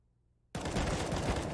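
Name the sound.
M4 rifle burst of gunfire in Counter-Strike video game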